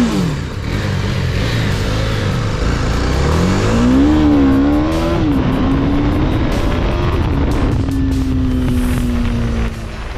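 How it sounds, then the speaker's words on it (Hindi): A TVS Apache RR310 motorcycle engine is revved on a road near Mount Abu, the loud engine note climbing, wavering and then holding a steady high drone for several seconds before dropping, with wind noise throughout. "यहाँ पे हम थोड़ा बहुत रेव करवाते हैं बाइक को फॉर दी टेस्टिंग"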